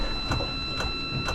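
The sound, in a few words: electric fuel pump running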